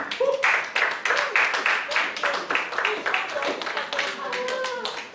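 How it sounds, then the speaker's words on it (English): Audience at a business growth seminar claps in dense, uneven bursts of sharp hand strikes, with a voice talking over the clapping throughout. "Please keep clapping."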